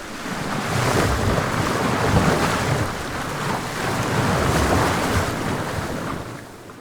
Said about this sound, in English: as the bow cuts through the water, there's this huge, dramatic, cacophonous sound as the boat pushes the water aside.